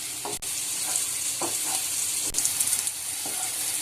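Gram flour pieces frying in a pan while being stirred, a continuous close sizzle with occasional scraping knocks of the spatula, no talking.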